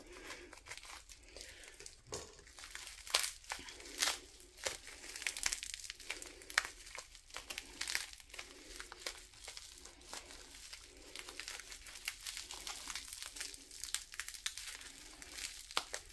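Plastic packaging from a cross stitch kit crinkles and crackles continuously while being opened, with brief tearing and crunching bursts throughout, close and moderately loud.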